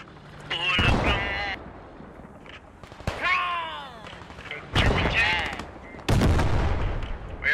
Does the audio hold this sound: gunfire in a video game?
yes